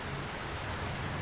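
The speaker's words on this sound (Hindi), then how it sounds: "अजी, अंदर आ जाओ, बारिश का पानी पूरा घोंसले में आ रहा है।" Rain falls steadily on a bird's nest in an animated jungle setting, a soft continuous wash of patter close by with no voices.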